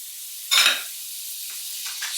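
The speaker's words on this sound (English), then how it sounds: "a little dollop of butter, and get it in the pan." A dollop of butter drops into a hot pan for cooking eggs and sets off a short, loud burst of sizzling. The sizzle then fades to a faint hiss with a few light scrapes.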